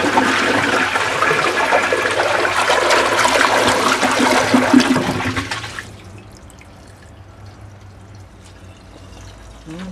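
A 1968 American Standard front trap toilet flushes loud and close through its flapper, a rushing gush of water lasting about six seconds before dropping to a quiet trickle as the tank refills.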